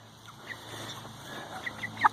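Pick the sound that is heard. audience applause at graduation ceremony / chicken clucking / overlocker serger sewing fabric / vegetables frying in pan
chicken clucking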